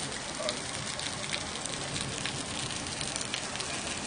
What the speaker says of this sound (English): it's raining here, बहुत बारिश हो रही है।